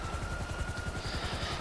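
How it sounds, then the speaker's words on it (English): A helicopter in a video game drones steadily, its rotor thumping in a rapid, even low pulse over a constant high whine, moderately loud and alone. "There's a helicopter."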